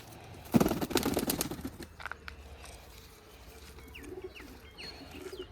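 Pigeons on a rooftop make a loud, close burst of flapping and fluttering, followed by soft cooing and faint chirps in a quieter stretch.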